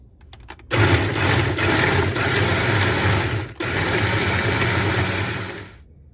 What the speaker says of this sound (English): I'm going to put these in the food processor to grind down